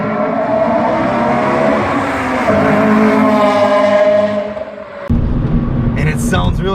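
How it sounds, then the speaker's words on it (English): A Honda Civic Si accelerates on the road, its engine climbing in pitch and getting louder as the exhaust note opens up at VTEC, then dropping sharply as it shifts. "Until I hit VTEC and it's like the exhaust note just opens up."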